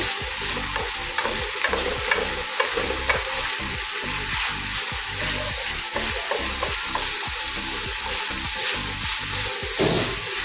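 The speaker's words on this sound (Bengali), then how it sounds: "এদিকেটা আমি সবজিটাকে আগে ভেজে নিলাম" Carrots and beans frying in a pan, a continuous loud sizzle with rapid rhythmic scraping and stirring strokes throughout, close and unbroken.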